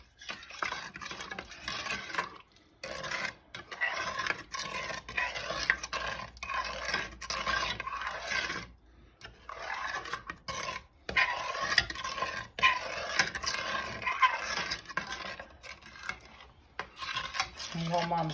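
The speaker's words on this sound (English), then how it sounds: "you can tell as you stir it, you'll be able to hear even when it's dissolved. It sounds a little grainy right now" A spoon stirs a grainy, not yet dissolved mixture for Swedish cardamom bread, giving quiet, repeated scraping and rasping strokes in bursts separated by brief pauses.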